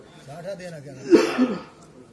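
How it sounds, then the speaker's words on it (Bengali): A single throaty cough with some throat clearing during a sermon, close and fairly loud, following a short stretch of speech. "গলার ভিতরে কিছু চলে গেছে, এজন্য কাশি লাগতেছে।"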